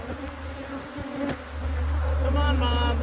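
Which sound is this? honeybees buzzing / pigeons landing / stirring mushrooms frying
honeybees buzzing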